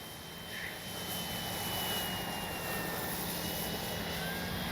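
An RC Flightline F4U Corsair warbird model airplane flying overhead, a steady, moderately distant electric motor and propeller drone that swells slightly as it passes, with no talking.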